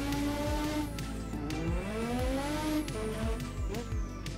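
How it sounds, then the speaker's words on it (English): A turbocharged race car in a racing sim game spins its wheels on corner exit, the engine droning loudly under repeated tire squeals and skids that rise and fall. "It's fully wheel spinning on the exit there."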